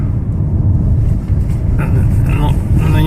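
A car drives through Kharkiv's Saltivka district, its engine and road noise forming a loud, steady low rumble heard from inside the cabin, with faint higher tones rising briefly toward the end.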